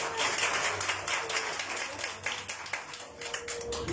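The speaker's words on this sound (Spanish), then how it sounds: "vamos a dar un fuerte aplauso para él" Church congregation applauding a young boy named Pau after his poem to the Lord, a dense continuous patter of many hands clapping at steady loudness throughout, with no voices standing out.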